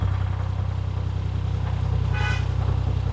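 A car drives over a canal bridge overhead, heard from below on a narrowboat as a steady low rumble, with a brief tonal horn-like toot near the end.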